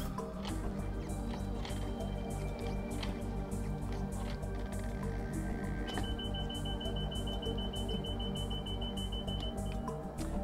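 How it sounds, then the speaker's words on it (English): A steady electronic buzzer tone from a Natoli NP-RD10A laboratory tablet press, signalling pressure relief, sounds over continuous low machine hum, joined by occasional faint beeps and clicks. "a buzzer will sound when it reaches there and pressure is relieved"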